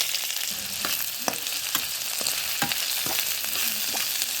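Chopped onions and garlic sizzle steadily in a hot pan as oil hisses, with occasional soft stirring clicks and no talking.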